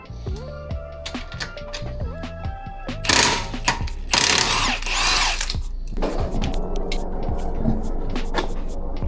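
A cordless drill whirs in short spurts with ratcheting clicks and mechanical clatter as its direction is switched between undoing and doing up, near and fairly quiet, while a Renesis rotary engine is installed in an RX8.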